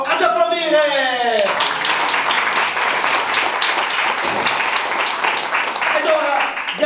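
A theatre audience claps in a dense burst of applause lasting several seconds, with a voice speaking just before it starts and again as it dies away.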